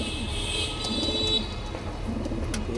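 A female pigeon coos in short repeated phrases, near and clear, over a faint background hum, with a few small clicks and no speech.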